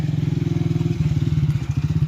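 A motorcycle idles close by at a building site where cement is being delivered, its engine putting out a steady, rapid low pulse with no talk over it.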